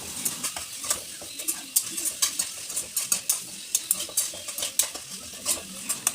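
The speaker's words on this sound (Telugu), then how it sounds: "తర్వాత కొంచెం పసుపు వేసి కలుపుకోవాలి." Turmeric and salt being stirred into mango rice seasoning for pulihora, with a spoon scraping and clinking against a metal pan in a steady run of sharp strokes over a faint sizzle.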